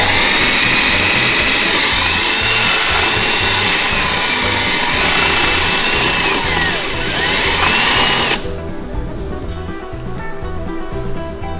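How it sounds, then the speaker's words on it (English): Power tool whining steadily as it cuts a hole through a plastic plug on a Mustang boost-gauge install, loud and continuous for about eight seconds before dropping to a quieter background hum. "So I'm going to try to cut a hole in that"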